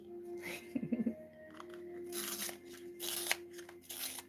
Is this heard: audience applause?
no